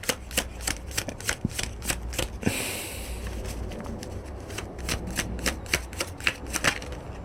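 Tarot cards shuffled by hand in a steady run of quick riffling bursts, close and clear, with a brief softer slide of the deck midway and no talking.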